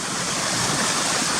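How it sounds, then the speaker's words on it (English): Cautley Spout waterfall pouring down a gully, a loud, dense and constant rushing roar of falling water, close by. "But the waterfall's still coming down here."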